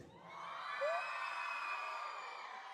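A crowd of juniors at a church youth congress shouts and cheers together on request, a sustained, fairly distant roar of young voices holding for a few seconds.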